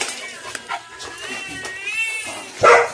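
Cats in a mansion, a faint sharp cry near the end, likely a meow, standing out over low background noise and scattered rustling.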